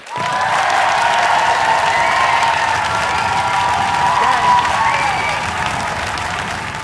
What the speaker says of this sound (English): By applause, how many thought that Paul's pro-Dianetics diatribe dominated?